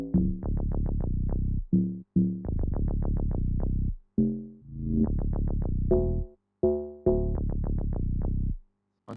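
An amapiano log drum layered with bass in FL Studio pumps out thick, low, pitched notes in a busy syncopated pattern, loud and dense, with brief pauses between repeating phrases.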